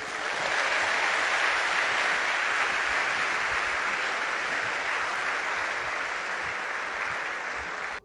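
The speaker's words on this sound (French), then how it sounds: "je demande qu'on l'applaudisse" Dense, steady applause from a large crowd for the First Lady of the Republic, continuous and even for about eight seconds, heard from some distance with no talking.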